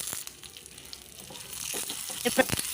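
Mustard seeds, cumin, chana dal, curry leaves and dried red chillies crackle and sizzle in hot oil, a steady close hiss with a few sharper pops near the end.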